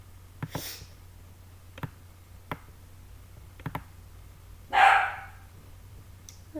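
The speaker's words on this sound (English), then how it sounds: "you might have heard Red just bark" A single dog gives one short, sharp bark, mid-level and fairly close, set among scattered faint clicks over a low background hum.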